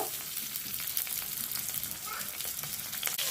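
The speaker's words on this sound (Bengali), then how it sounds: "সামান্য লবণ দিয়ে আমি টমেটোটা ভেজে নেবো" Chopped tomato sizzles and crackles steadily in hot oil with whole cumin and salt, close up, with occasional stirring scrapes.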